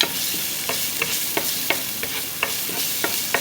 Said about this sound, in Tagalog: Lagay mo na yung ating bawang na kinodkod.